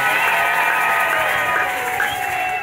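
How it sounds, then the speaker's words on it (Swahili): A church congregation at a Sunday service applauding, a dense continuous wash of clapping and crowd noise with a few cheers and whoops, loud and close throughout. "Chapia neno makofi mazuri"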